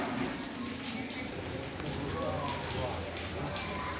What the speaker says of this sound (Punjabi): ਵੇਖੋ ਬਾਰਿਸ਼ ਬਹੁਤ ਆ ਰਹੀ ਹੈ